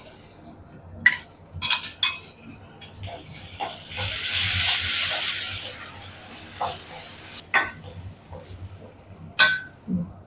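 Ginger garlic paste hits hot oil with curry leaves in a pan for a kola urundai gravy: scattered metal spoon clinks and scrapes, then a bright sizzling burst lasting about two seconds, then more clinking.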